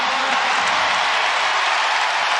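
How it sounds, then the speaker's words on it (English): Basketball crowd roaring at an NCAA women's game between Kansas State and NC State after an and-one basket, a dense, loud, sustained wash of cheering and applause with no break. "And the crowd goes crazy."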